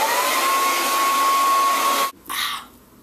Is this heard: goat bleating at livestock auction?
no